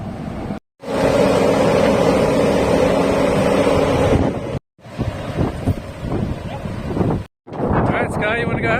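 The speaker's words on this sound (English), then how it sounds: "It's a bit windy." Strong wind roars steadily across the microphone beside the water at a boat launch for a sailboat, broken by a few brief dropouts, with gusty buffeting and someone talking through parts of it.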